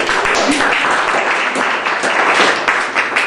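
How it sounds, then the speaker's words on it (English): An audience at an entrepreneurship talk applauds a speaker, loud sustained clapping from a room of people with a few voices murmuring underneath. "round of applause for him"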